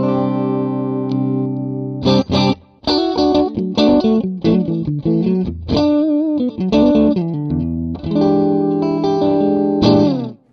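Electric guitar played through an amp with the fat switch engaged, clean tone without a drive pedal: strummed chords and short riffs ring out loudly with brief gaps, sustained harmonic notes, and a touch of reverb.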